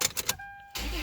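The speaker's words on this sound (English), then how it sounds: "it's kind of important to go ahead and just start the car" A Toyota 4Runner engine cranks and catches just after a PCV valve replacement, a few sharp starter bursts giving way to a steady, close idle hum.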